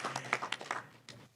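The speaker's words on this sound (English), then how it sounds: "You can applause." Small audience clapping at a city hall signing ceremony, a short scattered burst of hand claps, close and light, tapering off after about a second.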